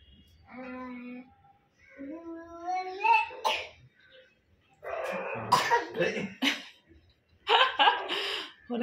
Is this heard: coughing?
yes